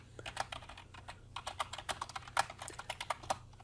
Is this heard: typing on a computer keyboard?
yes